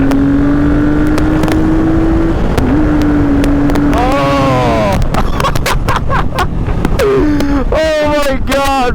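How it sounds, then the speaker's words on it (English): A 1978 Yamaha XS750 motorcycle engine pulls hard, its tone climbing steeply through several rapid upshifts with rising and falling pitch sweeps over steady wind rush, loud and close throughout. "That's the first time I did a really hard pull on this bike."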